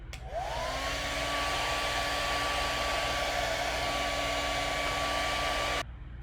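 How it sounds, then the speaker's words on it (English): A blow dryer runs steadily to dry clay slabs, switching on with a rising whine that settles into a constant, even airy hum with a tonal motor pitch, then cutting off abruptly near the end. "the blow dryer is blowing more air"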